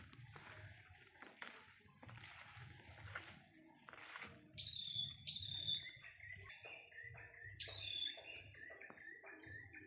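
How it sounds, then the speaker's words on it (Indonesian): Morning birdsong in a Borneo forest: repeated clear whistled calls and chirps, some close and some farther off, over a constant insect drone. "Indahnya suara burung-burung di pagi hari."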